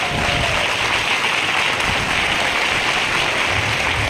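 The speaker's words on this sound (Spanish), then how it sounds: "Cuando damos un aplauso al Señor Jesucristo." A church congregation claps for Jesus Christ during a sermon: dense, steady applause that fills the room evenly from start to finish.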